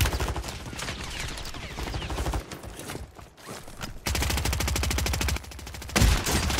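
Sustained automatic gunfire in a multiplayer shooter, fired from a RAM-7 rifle and KATT sniper, with long loud rapid-fire bursts broken by a short lull and brief sharp breaks, nearby and dominant.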